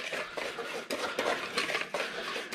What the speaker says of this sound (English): So I like to use a whisk, and I get this combined together.